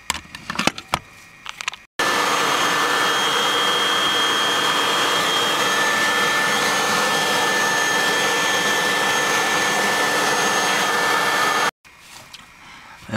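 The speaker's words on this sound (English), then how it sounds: "I'm gonna take the vacuum cleaner here and clean out some of that dust." A vacuum cleaner roars steadily for about ten seconds while it sucks dust out of an RV power converter. The sound is loud and close, with a constant whine, and it starts and stops abruptly with quieter handling noises before and after.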